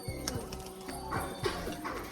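A pigeon enters its cage up close: soft wing flutters, light scrabbling and a faint coo mixed with a few short knocks against the cage.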